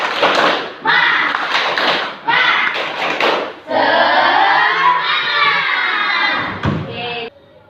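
A classroom of children doing a 'tepuk semangat' clapping chant, with rhythmic bursts of group clapping and loud shouted chanting that swell and break off, a teacher's voice leading between the rounds.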